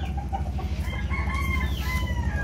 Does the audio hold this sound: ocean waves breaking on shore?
no